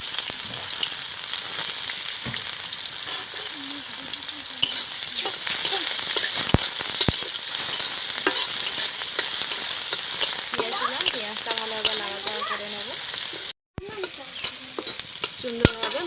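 Onions sizzle steadily in hot oil in a pan for a samosa filling, with scraping and clinking as they are stirred, a close, continuous crackle that cuts out briefly near the end before resuming.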